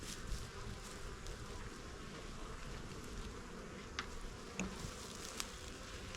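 Honeybees from newly overwintered swarms buzzing around their hives, a steady dense drone with a few closer passes, no talk.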